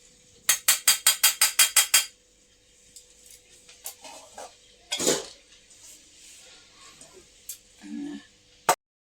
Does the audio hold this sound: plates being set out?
yes